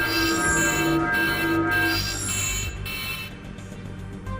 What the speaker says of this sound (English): It sounds like an alarm.